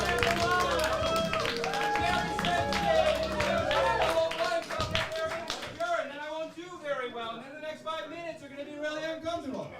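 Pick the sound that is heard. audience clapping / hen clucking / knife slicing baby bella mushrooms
audience clapping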